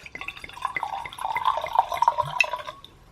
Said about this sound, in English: So it is a white wine, as you can see. Pour this.